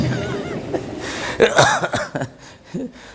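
A few short, raspy coughs break up quiet speech, with one louder cough in the middle.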